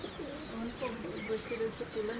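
Pigeons coo softly in low, rolling murmurs, fairly faint and at middle distance, with a person talking over them.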